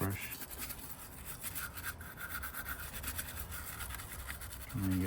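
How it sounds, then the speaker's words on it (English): A toothbrush scrubs a Game Boy's contacts soaked with isopropyl alcohol, giving a continuous, close, rapid bristly rubbing that keeps on for several seconds. "And give it a good scrub with the toothbrush."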